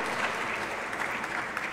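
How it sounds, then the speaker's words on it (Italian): An audience at a book presentation bursts into applause, a dense, steady wash of clapping from a seated crowd filling the whole short moment. "Facciamogli un applauso a Luca"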